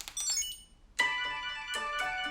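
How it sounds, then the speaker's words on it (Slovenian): A smartphone ringtone set off by squeezing a Chipolo Bluetooth tracker three times, bright melodic chiming notes in short repeating phrases, close and clear with no talking. "lahko čipolo 3-krat stisnete in vam pokliče telefon"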